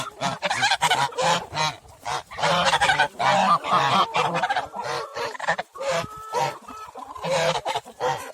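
Village geese honk loudly and repeatedly in close, overlapping bursts, mixed with clucking from nearby chickens in a farmyard, with short pauses between the calls.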